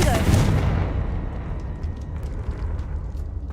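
Confringo blasting spell exploding in Hogwarts Legacy, one heavy booming blast at the start that rumbles and decays over several seconds, with smaller crackling impacts afterward.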